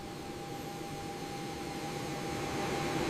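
Private jet engines at takeoff thrust produce a steady broadband roar with a thin high whine, slowly growing louder, heard from inside the cockpit with no talk.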